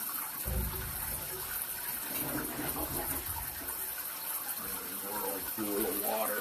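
Water runs steadily down a drain line, a continuous low rush and gurgle under faint background noise, with a person talking over it.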